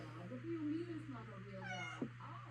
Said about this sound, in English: And if you hear meowing, that's my cat.